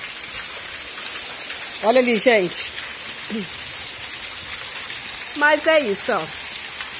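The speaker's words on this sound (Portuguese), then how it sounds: "Chuva é bênção, é vitória." Steady rain in Itapura, São Paulo, falling on hanging laundry and the yard, a dense continuous hiss throughout while someone talks briefly over it.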